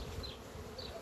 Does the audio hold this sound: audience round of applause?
no